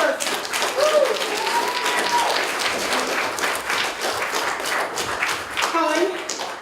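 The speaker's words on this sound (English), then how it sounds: "Give her a round of applause." An audience applauds a poet at a poetry night at The Tin: dense, steady clapping with a few cheers and voices mixed in, lasting the whole stretch.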